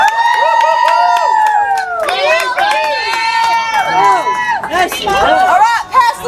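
At an opening-day event at Knott's Ghost Town, a crowd cheers and shouts through a playful race, with many overlapping voices whooping and calling out loudly and continuously, up close.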